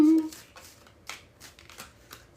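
A deck of tarot cards is shuffled by hand in soft, papery riffles and taps that come in a loose, repeated rhythm, fairly quiet and close, with no voices over it.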